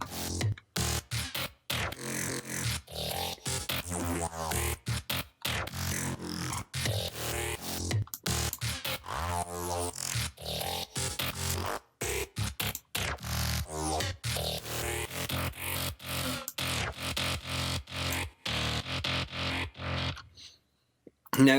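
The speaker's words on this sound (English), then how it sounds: "So at any point in time I only have one bass sound playing." Two bass parts in a music arrangement sketch take turns, one steady and one intermittent, never overlapping, inside a dense, continuous mix that runs loud throughout before dropping out near the end.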